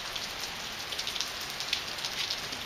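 Steady rain pattering on a surface nearby, a dense continuous hiss with scattered louder drops throughout.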